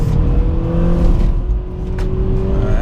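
A 2017 Honda Accord Sport with a CVT in S mode merges onto a highway, its engine droning at a steady, slowly rising pitch under road and wind noise, heard loud from inside the cabin.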